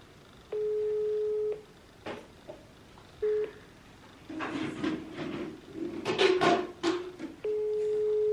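A phone call rings out while waiting for an answer, steady tone bursts repeating at even intervals near the start and end, with clattering handling noises and rustling in between.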